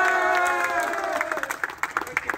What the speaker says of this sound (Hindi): उनके लिए भी काइंडली तालियां।